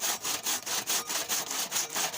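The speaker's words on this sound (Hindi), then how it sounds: "बिल्कुल ये बग़ैर मशीन के हाथ से ये एक आरी होती है उससे आ रहा होता है, उससे लकड़ी की कटिंग होती है।" Hand saw cutting through wood without any machine, a close, rhythmic back-and-forth rasp of about ten even strokes in quick succession.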